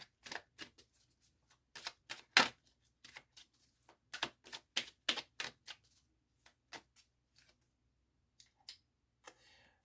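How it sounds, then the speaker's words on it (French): Tarot cards being shuffled and drawn, with a quick run of dry crisp slaps and flicks that thin out into sparse single taps, close and clear against near silence. "Je vais tirer une autre carte."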